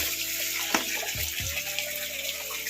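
Tap water runs steadily while bottles are cleaned, a continuous broad rush of flow with a few clunks of glass or plastic handled under the stream.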